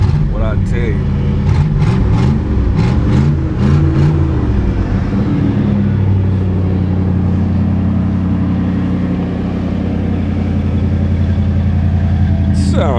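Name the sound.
1984 Monte Carlo SS engine cranked up and running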